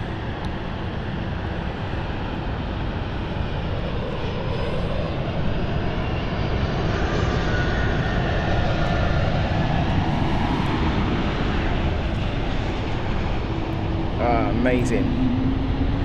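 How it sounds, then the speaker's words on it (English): Airliner landing at London City Airport with engines roaring in reverse thrust, a loud, sustained broadband rumble that holds steady for the whole stretch, with a brief spoken exclamation near the end. "Listen to those engines. There's reverse thrust."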